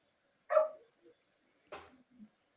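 A dog gives two short, muffled barks somewhere in the background, faint and spaced about a second apart, each followed by soft trailing sounds in an otherwise quiet room.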